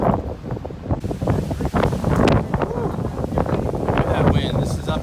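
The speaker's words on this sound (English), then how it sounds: "It is windy." Strong wind blows outdoors in Santa Maria, buffeting the microphone with a loud, steady rush and gusting surges throughout.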